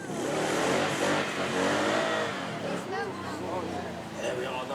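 A 6.2 litre V8 supercar with side exit exhausts revs and growls loudly close by at a supercar weekend, its engine note rising and falling under steady talking.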